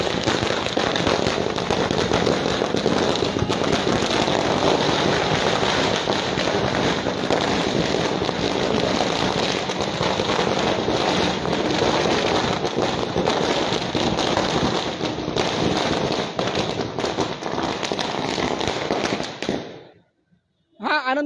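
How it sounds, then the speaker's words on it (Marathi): A long, dense string of firecrackers set off at a celebration in the Konkan region crackles and pops continuously for about twenty seconds, loud and close, before stopping abruptly. "हा आनंदोत्सव फटाके वाजवून साजरा केलेला आहे"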